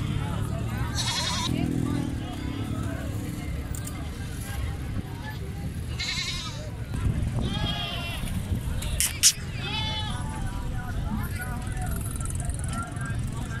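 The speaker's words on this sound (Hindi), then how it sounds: "और इधर हमारे पास बर्बरी भी खड़ी हुई है, एक बीतल बकरा भी खड़ा हुआ है, टैडी भी खड़ी हुई है।" Beetal and Barbari goats bleat at a goat market, with scattered bleats rising out of loud crowd noise and nearby talking.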